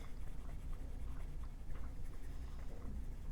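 Lyra Rembrandt Polycolor hard-lead colored pencil rubbing across toothy paper, a continuous close scratchy stroking with short repeated back-and-forth strokes, soft and steady with no talking.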